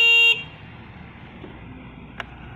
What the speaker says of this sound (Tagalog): Meron din pong horn.